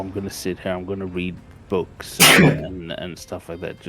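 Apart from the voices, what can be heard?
sneeze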